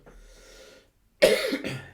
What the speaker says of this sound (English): Excuse me, coughing.